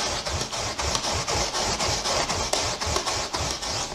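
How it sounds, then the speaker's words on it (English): Tape being pulled and pressed along a paint roller cover to remove loose fibres, a steady rhythmic ripping and crackling heard up close. "So I use some tape."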